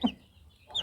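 A hen sitting near freshly hatched chicks gives a short cluck, then after a quiet gap there is a faint high chirp, close and brief.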